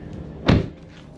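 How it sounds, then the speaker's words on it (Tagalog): A car door frozen shut by ice in a Canadian winter is yanked open with one sharp cracking thump, followed by quiet. "Itong mga tubig na ito magyayelo, didikit po yung pinto."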